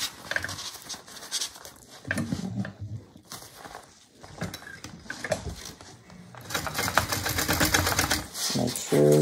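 Sewing machine stitching a quarter-inch seam on a bag, uneven bursts of rapid mechanical needle clatter separated by short pauses, close and fairly quiet, with a faster, denser run toward the end.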